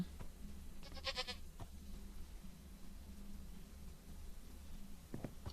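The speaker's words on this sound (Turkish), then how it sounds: "Bak keçim ne gidiyor. Keçinin de size selamı var." A Minecraft goat bleats in a quick wavering burst over steady game ambience, followed later by a couple of brief soft thumps.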